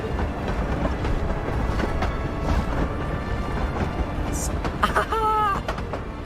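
A train runs in the video game Hogwarts Legacy: a steady, dense rolling rumble fills the scene, with a brief rising whistle-like tone near the end.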